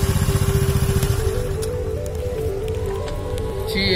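A motorcycle engine rumbles with a pulsing low throb that settles into a steadier drone, close and fairly loud, with no talk over it.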